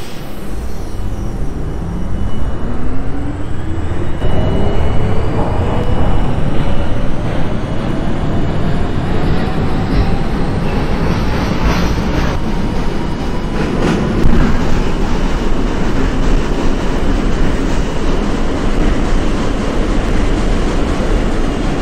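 An R42 subway train on the H express run in the OpenBVE train simulator runs steadily, its loud rumble carrying a rising motor whine and rhythmic rail clicks throughout, with no talk.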